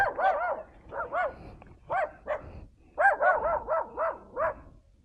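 A dog barks repeatedly in quick bursts, mid-distance, with short pauses between volleys and no one talking.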